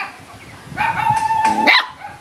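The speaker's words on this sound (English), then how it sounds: "You're barking at me?" A single short dog bark or yip, close by and fairly loud, with a higher whine at the end, against a quiet background.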